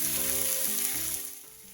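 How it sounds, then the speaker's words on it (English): Beef short ribs searing in a hot pot for nilaga, a loud, close, hissing sizzle that fades somewhat after the first second. "When you sear the beef, it adds more flavor to it, the crust that forms"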